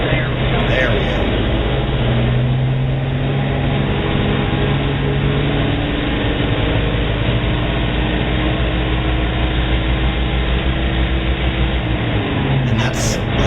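A 70-year-old truck's engine drones steadily and loudly while gears shift from second to third, the low rumble changing pitch through the shift with no clear pauses.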